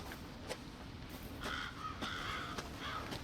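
Crows cawing in the video game Resident Evil 7, heard in VR, a few harsh caws in short bursts over a steady low ambient rumble, moderately close.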